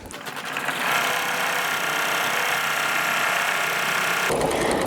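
An embroidery machine runs steadily, stitching a tack-down line that holds fabric pieces in place for a baby blanket, its fast, even mechanical whirr loud and close with no talking for nearly five seconds.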